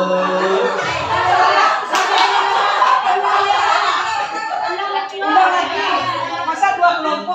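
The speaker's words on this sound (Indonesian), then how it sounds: "Tepuk salut untuk kedua kelompok" A group at a first working meeting of InWOCNA in West Sumatra does a rhythmic salute clap, with many hands clapping together in a busy room while voices chant and laugh along.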